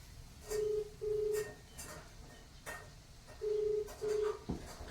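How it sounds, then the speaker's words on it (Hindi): Several short telephone dialing tones sound in pairs, a brief pause between the two pairs, over a soft hiss of background noise. "अभी तुरंत फोन लगाते हैं"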